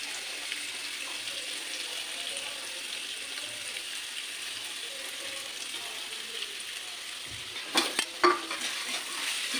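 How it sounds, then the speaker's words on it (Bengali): Carrots frying lightly in white oil in a pan give a soft, steady sizzle throughout, with a few louder clanks and scrapes of stirring near the end. "গাজরটাকে একটু ভেজে নেবো।"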